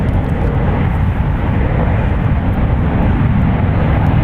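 Southwest Airlines Boeing 737 MAX 8 landing, arriving from San Diego, a loud steady broadband jet roar that holds evenly throughout with no voices.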